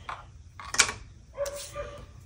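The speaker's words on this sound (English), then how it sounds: "The neighbor's dog is barking, of course." Neighbour's dog barking outdoors at a distance, a few separate short barks and a yip spaced out over a couple of seconds, faint and alone.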